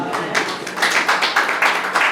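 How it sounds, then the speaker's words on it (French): A church congregation claps together in a dense, steady wash of handclaps that swells in rhythmic waves and stays fairly loud throughout, with no voices standing out. "Est-ce qu'on peut applaudir notre Dieu?"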